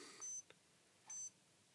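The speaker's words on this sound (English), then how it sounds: "That's kind of an alarm going off." A vintage watch alarm sounds in two short, high-pitched beeping bursts with a pause between them, faint and alone.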